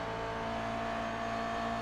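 Race cars in a sim racing video game, touring cars running nose to tail in a pack, a steady droning blend of engine tones held at an even level throughout, no talk.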